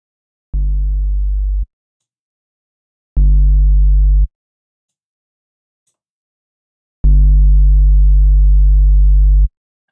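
808 kick drum synthesized in SynthMaster One with added distortion, heard as three deep, booming sustained bass hits with a gritty harmonic edge, the last held longest, each separated by silence.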